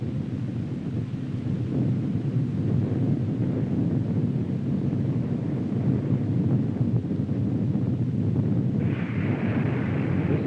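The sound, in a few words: rumble of a nuclear bomb explosion in the sky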